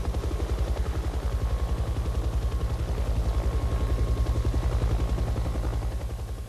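A Huey helicopter flies steadily with a loud, continuous rotor chop, its rapid, even blade thumps pulsing throughout at a close, constant distance.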